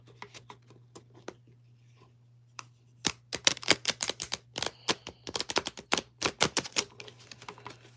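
A deck of stiff tarot cards being shuffled, first with scattered soft taps, then a dense run of sharp, close riffling clicks and slaps, over a faint steady electrical hum.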